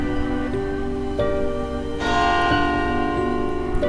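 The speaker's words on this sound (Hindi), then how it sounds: "घंटी बजने की आवाज आई।" A church bell rings inside a church at night, several loud, resonant strikes with long ringing tails that overlap and swell, heard alone without voices.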